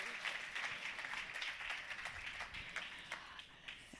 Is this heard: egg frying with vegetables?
no